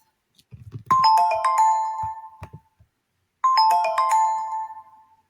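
An office phone system's electronic chime rings twice in a repeated tonal melody, with a short pause between, preceded by a few faint clicks.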